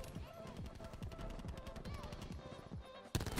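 Rapid automatic fire from a Scorpion gun in a competitive video game, dense bursts of shots running almost without pause, ending in a sharp loud blast, with a voice faintly under the fire.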